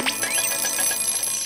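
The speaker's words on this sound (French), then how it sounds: "Mon réveil me réserve donc d'autres surprises désagréables que sa sonnerie." An alarm clock rings in a cartoon scene, a bright continuous metallic jangle of rapid repeated strikes, loud and close, heard alone without talk.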